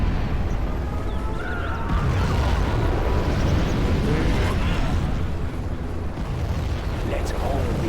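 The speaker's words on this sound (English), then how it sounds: "We have launched our nuclear missile." Nuclear missile detonation in a video game, heard as a sustained, loud, rumbling blast with dense low roar and crackling debris through the whole stretch, with no clear separate onset.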